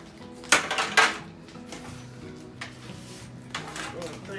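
A steak is turned twice in a dish of crushed Cheetos coating, making a couple of sharp clattering scrapes and dry rustles up close, followed by softer shuffling and light knocks.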